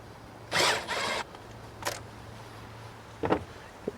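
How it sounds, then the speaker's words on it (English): A small impact driver with a 7mm socket spins out throttle body bolts on a Ford F-150 5.0L. Two short whirring bursts come up close, then a few faint clicks and taps follow in a quiet shop. "I'm going to use a little impact here."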